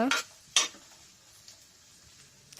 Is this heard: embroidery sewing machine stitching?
no